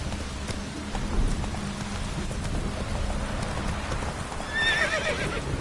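Roach the horse gallops in The Witcher 3, hooves pounding in a steady rapid rhythm through falling rain, with a short whinny rising near the end.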